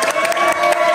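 A short burst of clapping from a small group at a cricket league team auction, brisk and close, lasting only a moment.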